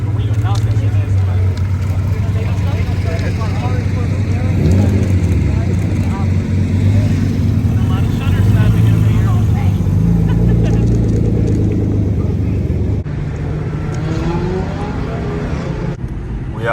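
An Infiniti G37 sedan with a manual gearbox cruises along, its steady low engine and road drone running continuously beneath people talking inside the car.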